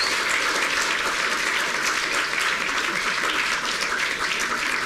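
Audience applause for performers at a live show, a dense, steady wash of many hands clapping throughout, loud and close with no talk over it.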